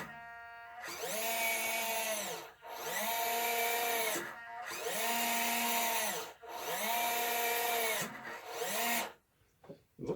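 Servo gearbox motor straining to lift a bottle, four loud whining runs of a few seconds each with brief pauses between, pitch dipping and rising as the load changes, close up.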